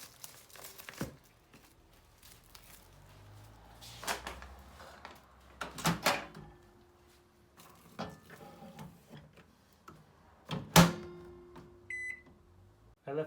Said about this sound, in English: I left it in this microwave because there's a timer function.